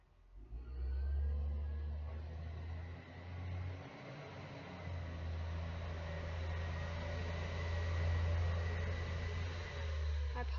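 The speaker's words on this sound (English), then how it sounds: "that's just the rubbish truck going past" A rubbish truck rumbles past outside, a steady low engine drone that swells and lingers through the whole stretch, with no talking over it.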